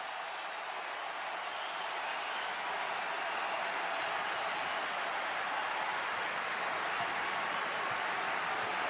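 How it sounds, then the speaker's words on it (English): A college basketball arena crowd at a Purdue versus Wisconsin game roars and applauds continuously, a dense sustained wash of cheering and clapping with no break. "And now Sasha Stefanovic getting the crowd to come to life."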